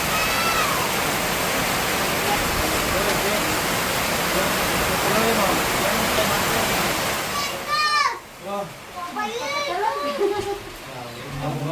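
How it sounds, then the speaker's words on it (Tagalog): A dense, steady roar of heavy rain in the mountains fills most of the clip, then drops away and scattered voices and chirpy sounds come through. "Lakas ng ulan dito sa bundok."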